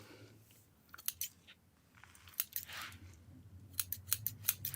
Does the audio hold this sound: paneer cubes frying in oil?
no